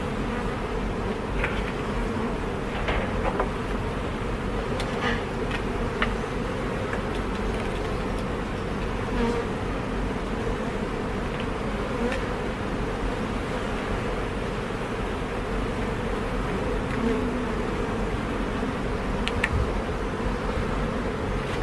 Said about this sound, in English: I'm going to start doing my bee inspection now.